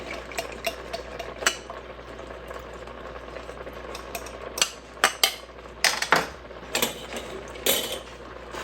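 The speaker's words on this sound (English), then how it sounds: "I'm just going to mix up a tiny bit more." A spoon scrapes and clinks in a pan, stirring a thick plant-based mushroom sauce. It makes irregular close-up taps and scrapes over a steady low hum.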